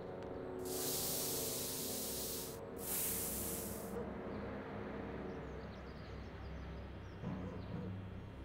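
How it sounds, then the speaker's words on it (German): A spray can hisses onto a wooden board in a Back to the Future video game, with two loud, steady bursts of spray over a low, continuous game background. "Wir sprühen mal das Holzbrett ein."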